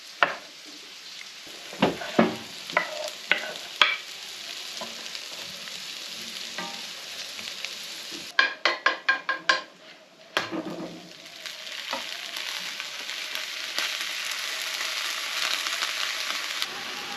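Leftover Christmas ham frying in a pan in an off-grid Newfoundland cabin, a constant sizzle broken by sharp clacks of a utensil scraping and stirring, including a quick run of taps.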